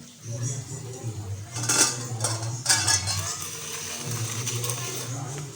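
A metal lid clanks off a cooking pot of ghetkochu (arum root) with vegetables, two bright clatters standing out over a steady low kitchen hum, with faint voice in the background.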